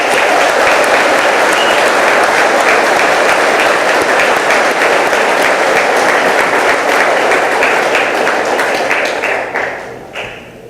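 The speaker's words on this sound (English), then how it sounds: "Please give both our outstanding airmen a round of applause" A ceremony audience applauds two outstanding Air National Guard airmen at an awards event in Hawaii, a dense, loud, sustained wash of clapping that holds steady for about ten seconds before tapering off at the end.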